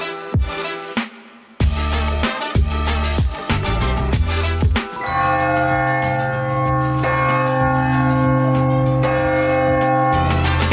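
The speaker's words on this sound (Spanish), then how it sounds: "Cada hora suenan las campanas de la torre" Church bells ring from the Clérigos tower in Porto, several loud clanging strokes at first, then a sustained resonant peal with overlapping tones that hum on and decay, with no voices.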